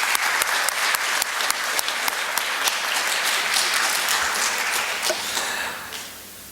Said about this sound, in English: So we also want to give them another round of applause